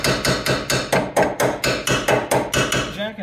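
A hammer taps on a Mazda Miata suspension part about a dozen times in a steady rhythm, each strike sharp, metallic and close.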